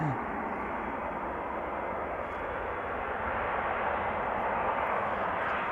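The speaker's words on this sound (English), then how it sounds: "This is JetBlue arriving from Boston, flight 631." A JetBlue airliner arriving from Boston at Amsterdam Schiphol makes a steady, moderately loud broadband jet rush, muffled at the top and slowly building in strength, with no speech heard.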